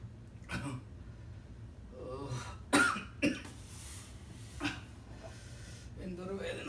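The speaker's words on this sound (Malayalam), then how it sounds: "ചുമയും മാറുന്നില്ല" Coughing from a character in a Malayalam comedy skit: a few sharp, close coughs spaced over several seconds, with speech-like vocal sounds between them.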